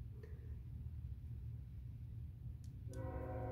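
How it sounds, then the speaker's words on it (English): Train passing at dawn, a constant low rumble of rail cars with a tonal horn-like blare entering near the end, distant and faint, no talk. "Here comes the train."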